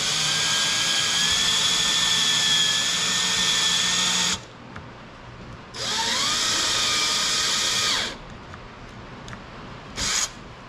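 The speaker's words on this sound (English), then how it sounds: "And my drill kind of sucks." Power drill boring into a motorcycle tour pack on a 2021 Road Glide, whining loud and high in two long bursts and a short final one, separated by quiet pauses.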